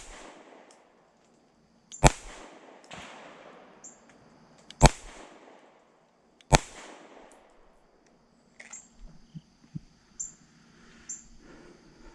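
Pistol shots from a Fusion Firearms XF Pro: three sharp, loud reports spaced a couple of seconds apart, each with a short echoing tail, followed by softer clicks and handling noises, with no talking.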